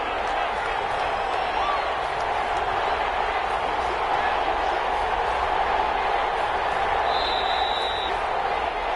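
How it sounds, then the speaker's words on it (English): A broad, steady roar of a football stadium crowd in a video game, rising slightly but staying constant throughout, with a brief faint whistle-like tone near the end. "the crowd getting into it as we come up on a big 3rd down"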